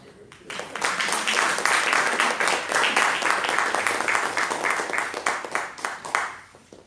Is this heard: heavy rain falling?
no